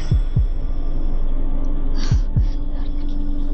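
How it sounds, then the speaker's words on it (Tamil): Loud, deep heartbeat thumps land in two lub-dub pairs, one at the start and one about two seconds later, over a steady low hum with no voices. "அந்த அளவுக்கு ஹார்ட் பீட் தான் அதிகமாக சவுண்டாக கேட்குது"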